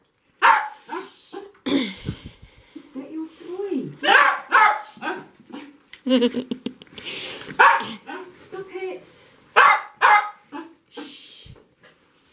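A dog barks, yips and whimpers in excited bursts close by, while a person talks over and between the sounds.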